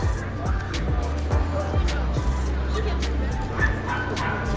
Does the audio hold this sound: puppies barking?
yes